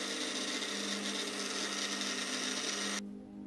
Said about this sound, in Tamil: இப்போ இது மூடி போட்டு நல்லா நைஸா அரைச்சுக்கலாம் தண்ணி எதை ஆட் பண்ண கூடாது